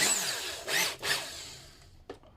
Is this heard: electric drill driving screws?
yes